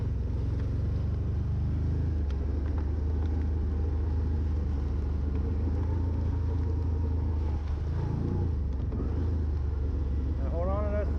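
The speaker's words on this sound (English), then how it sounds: "you can hear that engine brake kicking in right now" Engine braking on a 2024 Can-Am Outlander 1000R Max XT ATV: a steady, loud low engine drone with wind rumble, shifting pitch as the engine slows, and a rising whine near the end.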